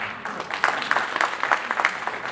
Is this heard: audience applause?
yes